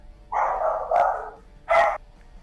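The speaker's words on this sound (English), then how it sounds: "He's barking at the cats." A real dog barks at cats in a nearby room, three loud, close bursts with pauses between, heard alone over faint background hum.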